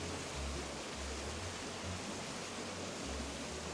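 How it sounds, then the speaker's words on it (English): A small waterfall in Animal Crossing: New Horizons rushes in a steady, soft broadband hiss, continuous and unbroken, with faint low thumps underneath and no talking. "I did a little back waterfall."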